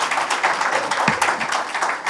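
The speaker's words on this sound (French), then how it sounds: "Je vous demanderai de l'applaudir" Audience at a public event applauds Madame Diouf, director of private sector development, with a brief, dense burst of clapping from a gathered crowd.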